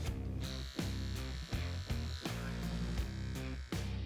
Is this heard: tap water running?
no